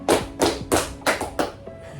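Group hand clapping in a counting game during a counselling session, with five or six sharp claps in uneven rhythm that fade toward the end. A voice calls out the counts.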